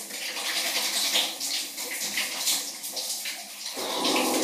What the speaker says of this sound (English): Oh, that's like a good shower